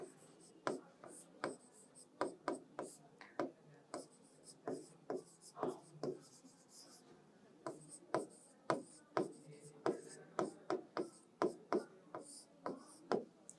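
Pen or chalk scratches and taps out handwriting in quick irregular bursts of short strokes, each stroke faint and close, with brief pauses between groups and no clear talking over them.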